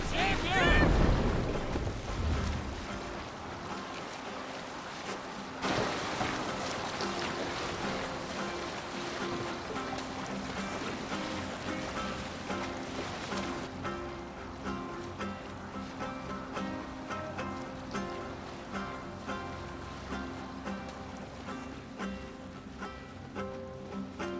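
Sailing ship gliding across open water in Assassin's Creed Valhalla: a steady rush of wind and sea with sustained musical tones, continuous and moderately loud throughout.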